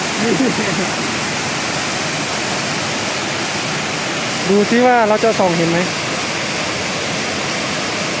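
Phon Phop waterfall on Phu Kradueng mountain pours in a constant, loud rushing hiss, with someone speaking briefly near the start and again in the middle over the steady water.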